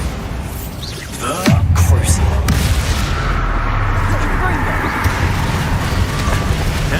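A Bombarda spell blows up in Hogwarts Legacy with a sudden deep boom that rolls into a long rumbling, crackling tail of debris and reverberation, loud and close, with game sound layered underneath.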